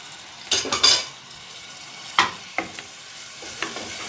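Onion frying in a little oil in a pot on the stove, with soft sizzling under several clinks and scrapes of a spoon against the pot, close and moderately loud, with no talking.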